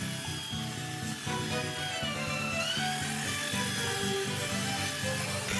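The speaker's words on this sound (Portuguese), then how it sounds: "Então lixamos o máximo possível, e quanto mais vai lixando, mais vai desgastando a madeira." A wooden phone stand being hand-sanded, with steady rubbing strokes of sandpaper on wood heard close and continuous throughout, without talk.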